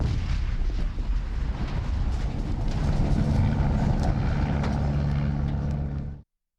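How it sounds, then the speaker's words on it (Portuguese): A motor used by illegal gold miners blows up, giving a loud, sustained roar of blast and rumbling that fills the whole stretch before cutting off abruptly. "Um motor usado pelos garimpeiros foi explodido."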